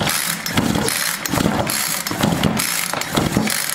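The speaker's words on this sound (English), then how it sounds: "So let me let out the pressure." An Innova Equus 3612 compression tester is bled of pressure after testing a string trimmer engine, giving a steady close clicking, ratchet-like mechanical rattle throughout with a few brief hissy bursts.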